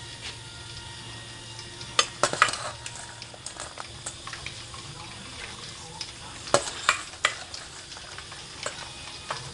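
Pork skin crackles as it fries in oil for Isan-style cracklings, a steady low sizzle broken by sharp pops and bursts of stirring, fairly close and moderately loud.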